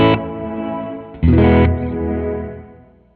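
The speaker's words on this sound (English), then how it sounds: "you can kind of use this for either forward or backwards reverb instead of both." A sustained tone passed through a forward reverb effect, two loud distorted chords each trailing into a long reverberant wash that fades out.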